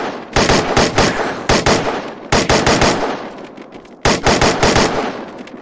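The Zalash rifle in the Unturned Arid map fires three loud, close bursts of rapid automatic shots, each burst fading out before the next begins.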